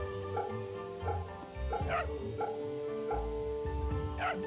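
Puppy in Fate/Samurai Remnant yipping and barking in short repeated bursts over steady game background music, close and moderately loud.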